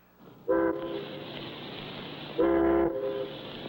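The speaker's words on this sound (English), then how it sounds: "That's the first boat whistle that's sounded in 3 weeks." A boat whistle in a 1959 Clutch Cargo cartoon gives two loud, harmonic blasts: a short toot, then a longer one after a pause, with no other sound between them.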